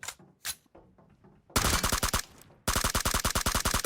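Rapid automatic gunfire in PUBG Mobile: a quiet stretch of scattered shots, then two long, loud, closely spaced bursts of rattling fire up close.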